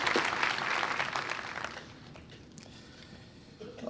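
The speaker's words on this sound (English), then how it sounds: "Let's give them a round of applause." A graduation ceremony crowd applauds for about two seconds, the clapping loud at first and then thinning out into scattered claps and quiet room noise.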